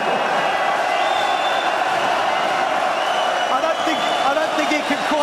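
A darts crowd in an arena cheers and applauds in a steady, loud roar that carries throughout, with a voice talking over it.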